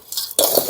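Gritty potting mix for a cactus being stirred and mixed by hand, a soft scraping rustle that starts faint, then turns louder and coarser after a short pause, close up with no talk.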